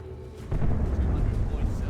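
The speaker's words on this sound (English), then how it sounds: "Chuck some stick bombs around." A heavy, low boom of stick bombs going off in Dawn of War 2, a single deep blast that swells halfway through and rumbles on to the end.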